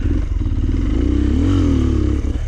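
A trail motorcycle engine revs loudly and steadily up close as it climbs over a rock on a green lane, the pitch rising and dipping as the throttle works, with some clattering underneath.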